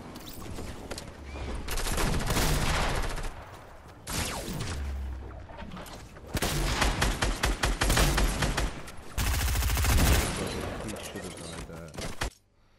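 Loud, rapid gunfire bursts from a Fortnite match, including shotgun blasts in close combat, arriving in dense clusters with short gaps between them and a voice talking over parts of the action.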